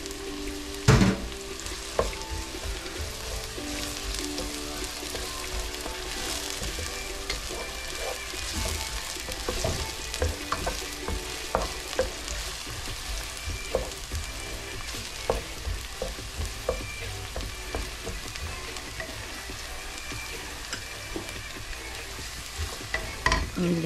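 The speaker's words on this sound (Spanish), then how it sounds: "Ya que el ajo vemos que está ya frito, le echamos la cebolla." Garlic and red onion frying in a pan, with a steady close sizzle under frequent stirring scrapes and clatters, running continuously with no talk.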